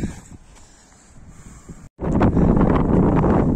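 Wind rumbles softly against the microphone while climbing above a campsite in Datça, Turkey, then after a brief dropout it turns into loud, heavy buffeting gusts that roar steadily to the end.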